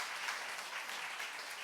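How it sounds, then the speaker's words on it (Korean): Audience applause for three guests at a Seoul book concert, a steady dense wash of clapping throughout, moderately distant and fairly quiet. "우리 세 분께 다시 한번 큰 박수 해주시기 바랍니다."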